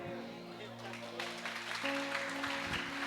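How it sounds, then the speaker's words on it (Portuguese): A church congregation breaks into applause that swells after a moment, clapping building over sustained tones from music or a voice in the sanctuary. "Aplauda mais forte, Senhor, meu Deus."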